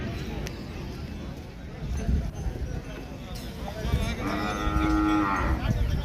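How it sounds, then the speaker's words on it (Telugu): Ongole bulls and cattle at the Saturday weekly market in Pebbair: a deep moo rises near the end over a busy crowd of voices and occasional hoof clatter. "పెద్ద మొత్తంలో వచ్చిన ఎద్దులు అయితే చూద్దాం"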